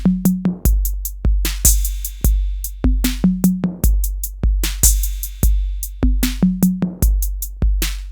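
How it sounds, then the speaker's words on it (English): A vintage Roland TR-808 drum machine from the 1980s plays a steady pattern of booming kicks, snappy snares, crisp hi-hats and tonal tom hits, loud and close in a repeating groove with no voices. "It is the Roland TR-808. It's a legendary drum computer from the 80s"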